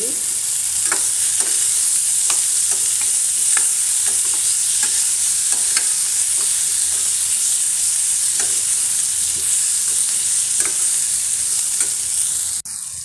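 Tamarind sizzles in a hot pan while it is stirred for peanut chutney, a steady bright frying hiss broken by regular scraping strokes of a spoon, close and continuous.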